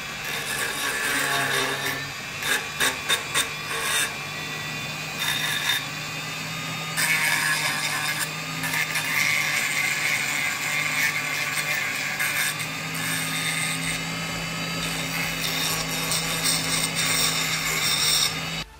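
A Dremel 3000 rotary tool sanding down protruding plastic holds a continuous high, whining buzz that dips and surges as the bit meets the workpiece, with a few short stuttering bursts near the start.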